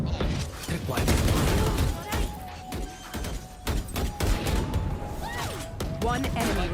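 Dense, sustained gunfire from a shooting video game, with continuous overlapping shots, thuds and impacts over loud game noise and no clear pauses.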